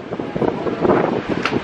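Steady seaside wind gusting against the microphone on Siargao Island, a broad rushing roar with no voices, continuous for a moment.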